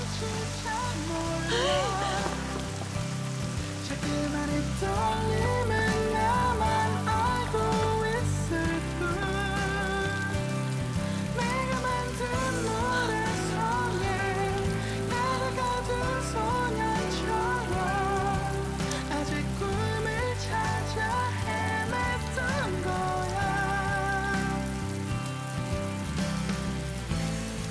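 Rain falls steadily on a surface, a constant wash of patter lasting the whole stretch, partly masked by a dramatic musical score, with a brief exclamation from a voice.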